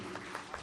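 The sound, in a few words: audience applause at a mushaira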